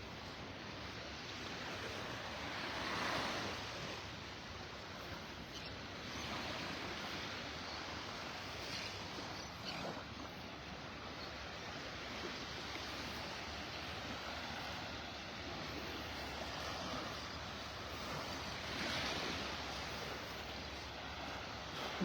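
Ocean waves roll ashore at Delnor-Wiggins beach in North Naples, Florida, a steady broad wash of surf with gentle swells and some wind rumble, moderately distant and without voices.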